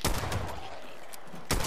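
Revolver shots in the Fallout 76 video game: two sharp, loud reports, one at the start and another about a second and a half later, with a quieter tail between them.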